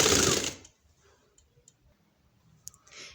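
A sewing machine runs in one loud continuous burst while stitching a shalwar, then stops abruptly, leaving faint scattered clicks and ticks and a short whirr near the end.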